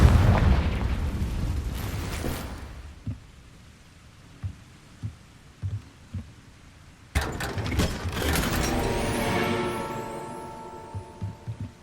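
A Confringo fire spell in Hogwarts Legacy goes off as a loud blast with a crackling, rumbling burst, then fades into a low throb and a few soft thumps before a second heavy boom and a long roaring tail.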